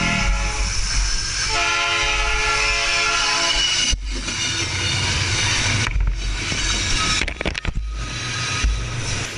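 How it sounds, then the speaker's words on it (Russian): A locomotive-hauled train rumbles past close by, and its horn sounds in sustained blasts over the clatter of the wheels. "некоторое время спустя им навстречу из-за поворота выскочил локомотив"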